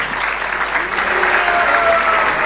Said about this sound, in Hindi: एक बार जोरदार ताली हो जाए हमारे IYF